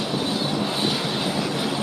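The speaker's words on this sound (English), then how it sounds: "I think this might be Britney Spears' airplane." An airplane roars past in a steady, broad wash of engine noise that holds at full loudness for the whole moment, with no voices over it.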